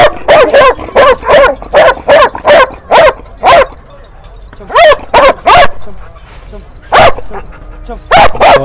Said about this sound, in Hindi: इसके भौंकने से ही पता लग रहा है कि अभी बच्चा है